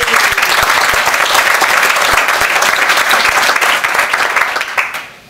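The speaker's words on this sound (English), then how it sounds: "give her a big round of applause" Loud, sustained applause from a conference audience at a tech talk, dense clapping with occasional sharper claps, holding steady before fading out quickly at the end.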